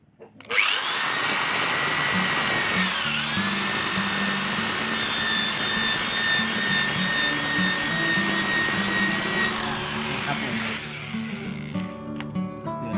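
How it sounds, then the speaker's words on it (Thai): A power drill bores holes into an old garden hose, running steadily at close range with a whining pitch that shifts slightly partway through, then stops near the end. "ผมเจาะสี่ทาง"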